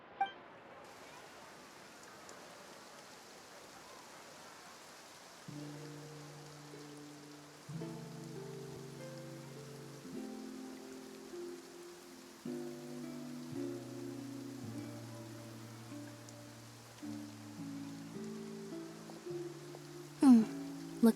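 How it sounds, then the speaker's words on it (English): Rain falls in Fontaine in Genshin Impact as a soft, steady patter and hiss that continues throughout under gentle background music, with a few brief brighter accents. "Looks like rain."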